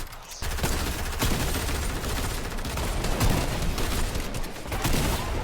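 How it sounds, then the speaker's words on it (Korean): Rapid bursts of Fortnite gunfire crack and rattle continuously, loud and close, with a few heavier shots standing out amid the dense volley. "총소리 총소리 총소리 여기 총소리"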